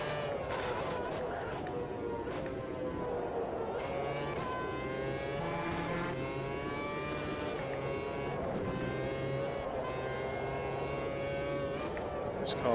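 Formula Reiza open-wheel race car in the Automobilista 2 sim at Suzuka, its high, buzzing engine note rising and falling through upshifts and downshifts, loud and continuous, with someone talking over it.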